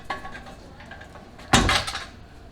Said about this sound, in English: I hear some money rattling around in here.